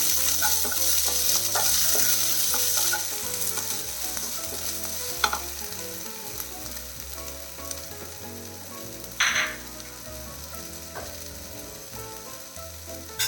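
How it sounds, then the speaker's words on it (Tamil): Onions with ginger-garlic paste and tomato sizzle steadily in a pan for a Tamil-style chicken dish, with a spoon scraping and clicking as it stirs, loud and close with no talk. "வெங்காயம் வதங்கிடுச்சு பாருங்கள். 1 தக்காளி அதையும் சேர்த்துடலாம்."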